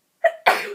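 A single sharp sneeze, a quick inhaled catch followed by an explosive burst, close and loud against silence.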